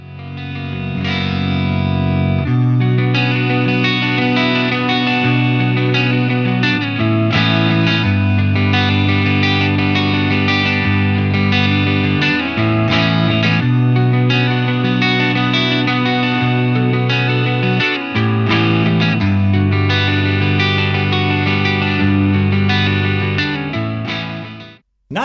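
Electric guitar played through the clean channel of a Marshall DSL100 amp, with a sustained, effects-laden sound of chords and notes, loud and continuous for about 25 seconds before cutting off abruptly.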